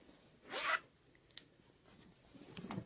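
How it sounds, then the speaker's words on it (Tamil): A zipper on a dark pure-cotton nightie is pulled in a short, quiet burst near the start, with a fainter second zip near the end and soft fabric handling between. No voices. "ஜிப் குவாலிட்டியெல்லாம் உங்களுக்கு நல்லாயிருக்கும்."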